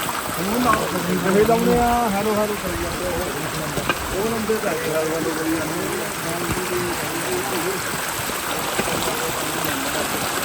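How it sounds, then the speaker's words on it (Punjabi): Fast glacier meltwater stream on the trek to Hemkunt Sahib rushes steadily and loudly throughout, with voices talking over the continuous water noise. "ਦੇਖੋ ਇਹ ਗਲੇਸ਼ੀਅਰ ਦਾ ਪਾਣੀ ਕਿੰਨਾ ਤੇਜ਼ ਆ ਰਿਹਾ ਨੀਚੇ ਨੂੰ"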